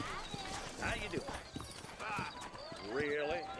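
Horse hooves clip-clop steadily in the Red Dead Redemption video game. The hoofbeats are close and rhythmic, with voices talking over them.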